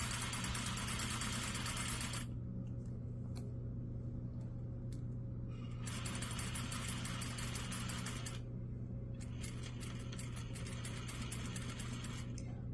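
A sewing machine stitches a skirt seam while attaching a waistline facing, running in two long bursts with a brief back stitch between them, close and steady over a constant motor hum.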